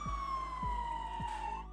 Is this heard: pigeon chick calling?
no